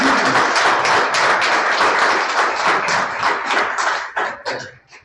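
An audience applauds at a gathering honoring a statue's history with a local public library. The clapping is loud, dense and sustained, then thins into scattered claps and fades out at the end.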